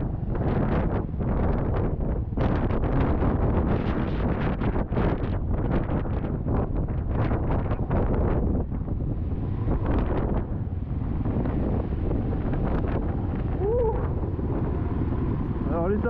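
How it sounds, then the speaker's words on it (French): Strong wind buffeting the microphone on exposed mountain ridges during a Yamaha XT350 off-road ride in the Montagne Noire, a loud, continuous roar mixed with the motorcycle's rumble, easing somewhat toward the end. "Alors les arêtes en plein vent, c'est fort."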